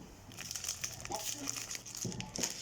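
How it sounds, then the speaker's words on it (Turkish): Clash Royale card packs are opened by hand, giving close crinkling and crumpling of packaging in short bursts, with some quiet voices in the background. "seninle kardeşimle birlikte kart açıyoruz"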